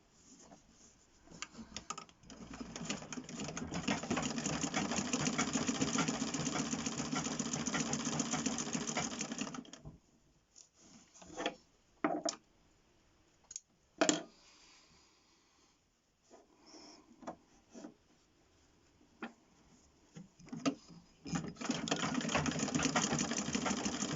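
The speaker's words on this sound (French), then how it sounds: "Je fais un point d'arrêt en arrière pour rattraper 1 mm." Sewing machine stitching fabric for a homemade cloth mask, including a short reverse backstitch: long, steady runs of close mechanical whirring, broken by a quieter stretch of scattered clicks and handling noises before the motor starts up again.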